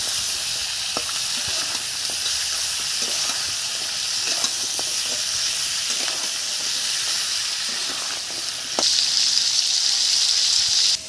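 A fish head rubbed with salt and turmeric fries in oil, hissing and sizzling steadily with scattered spatters. The hiss swells louder near the end.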